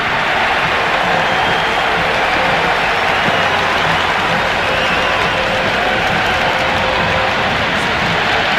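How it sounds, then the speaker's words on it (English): Raucous crowd in the Cricket 26 video game during an IPL match between RCB and GT, a dense, steady roar of cheering and applause filling the whole stretch at close, loud level with no pauses. "The crowd are really getting quite raucous."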